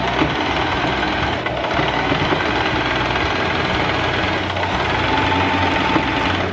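A sewing machine stitches a small piece of fabric cut from Nike socks, a steady continuous motor whir with rapid needle chatter running close and loud throughout, briefly easing near the start.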